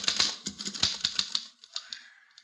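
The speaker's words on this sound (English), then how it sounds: "Here's a typewriter." A typewriter clacks through a quick run of sharp key strikes, close and crisp, thinning out into a few scattered taps toward the end with no voices.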